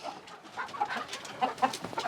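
Desi roosters clucking close by in quick, uneven bursts, several calls overlapping over a couple of seconds.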